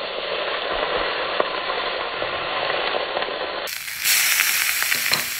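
Steak frying in butter in a 9.5-inch de Buyer carbon steel skillet, a continuous close sizzle and crackle that grows brighter and louder toward the end.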